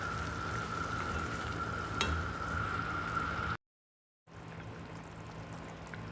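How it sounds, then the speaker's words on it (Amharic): Injera firfir sizzles steadily in a hot pan, a continuous close frying hiss with a brief stir sound, cutting out for a moment before the sizzle resumes. "በደንብ ጥብስ አደርገዋለሁ ማለት ነው"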